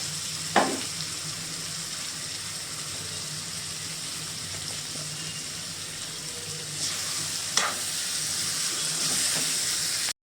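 Eggplant sautéing with turmeric in a pan for eggplant biryani, a steady close sizzle throughout with two brief scraping stir strokes, one near the start and one later.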